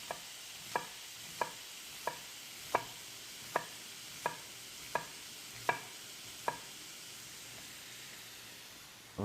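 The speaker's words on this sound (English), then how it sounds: "So all I'm going to do is take a red onion and I'm just going to cut super thin slices." A knife cuts a red onion into super-thin slices on a board, about a dozen crisp, evenly spaced chops close by, with quiet kitchen hiss between them.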